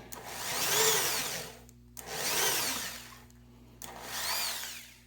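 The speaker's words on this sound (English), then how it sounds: "So here we've got the 120 grit sandpaper with dowel. Got it fitted in there. I'm just gonna spin it." A drill spins a dowel wrapped in 120 grit sandpaper inside a guitar body cavity, giving three rising and falling bursts of whirring, abrasive sanding at a moderate level.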